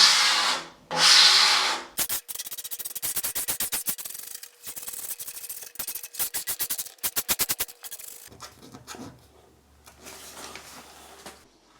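Adhesive vinyl smoothed onto glass with a card, heard as dry rubbing and scraping strokes, first a loud broad sweep, then rapid rhythmic scratchy passes, fading to softer rubbing at close range with no talk.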